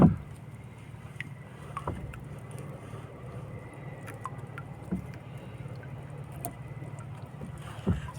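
A small fishing boat idles and drifts on open water while squid fishing, a steady low engine hum running throughout with faint splashes and wind, no voices.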